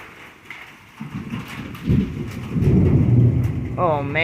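Thunder from a severe storm rumbles and builds over steady rain, a deep rolling swell that grows louder toward the end, close and heavy, with a high whistling tone at the very end.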